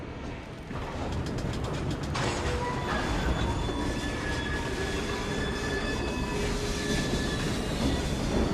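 A Victorian-era train rolls steadily in the game Assassin's Creed Syndicate, a loud continuous rumble of wheels on rails with metallic squeals and clanking carriage mechanisms throughout.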